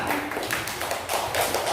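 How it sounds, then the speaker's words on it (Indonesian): A classroom of students claps their hands together in a dense, continuous patter of applause that stays at an even level for a couple of seconds. "Nah, tepuk tangan."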